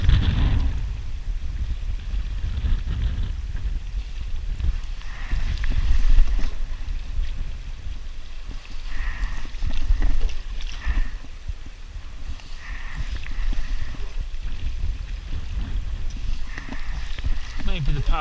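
A solo canoe under sail on a wilderness lake in Temagami, with steady wind buffeting the microphone and low water wash against the hull, while a voice speaks intermittently over the noise.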